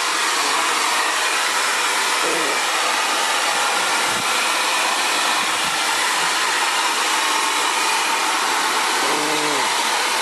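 An Xtava Allure professional ionic ceramic hair dryer runs close and loud, a constant airy roar throughout with a faint voice briefly underneath.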